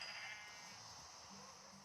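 A sheep in the Minecraft video game gives a single drawn-out bleat, clear and steady over a low background hum, with no talk.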